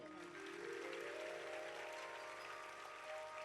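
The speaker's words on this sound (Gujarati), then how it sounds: "અને એકવાર જોરદાર તાળીઓ તમારી માટે વગાડો" An audience at a devotional satsang comedy gathering claps together in a steady, sustained wash of applause that sounds somewhat distant and fairly soft.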